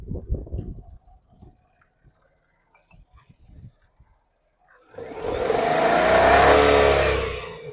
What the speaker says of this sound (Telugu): టోటల్ ఇంజన్ వ్యూ చూసుకుందాం. నీట్ అండ్ సైలెంట్గా ఉంది